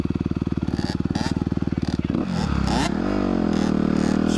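A 2021 Honda CRF 250R dirt bike engine runs in second gear on a muddy ride, a steady fast-pulsing idle-like thump giving way to a rising, revving roar as the clutch is let out, loud and close, with some speech mixed in.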